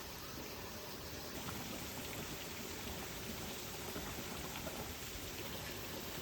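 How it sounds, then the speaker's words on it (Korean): Steady, continuous water splashing and trickling as hot spring water flows through a traditional bamboo cooling structure in Izu, Japan, a dense broadband wash like water spilling over a surface, even in level throughout with no voices. "객실 바로 앞에 물소리가 들려서 창문을 보니 유우타케라는 대나무로 만든 온천 냉각 시설이 보이네요"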